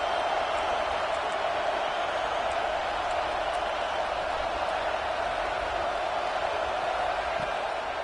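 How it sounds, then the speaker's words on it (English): A huge college football stadium crowd in the video game College Football 26 roars steadily and continuously, a dense wall of cheering and noise with no breaks. "Listen to this crowd just shaking the girders of this place"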